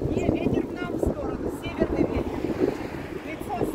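Strong gusting wind buffets the microphone on a walk toward a free beach in Abu Dhabi, low rumbling blasts rising and falling while people talk over it.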